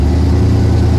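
A 1955 GMC truck engine runs steadily while driving, a low, throaty rumble that stays loud and even through the whole moment with no voices over it.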